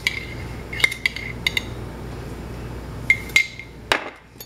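A fork clinks sharply against a bowl while beating two eggs and sugar together. The ticks are bright and close, and come in irregular clusters with quiet gaps between them.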